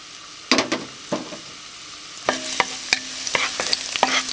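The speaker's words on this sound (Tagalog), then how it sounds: "Then, mainit na itong ating cooking oil. Lalagay na natin yung ating garlic." Garlic dropped into hot cooking oil in a pan, frying for chicken with pineapple: a sudden loud sizzle bursts in, then steady crackling frying with sharp spatula stirs and scrapes repeating close by, no voices.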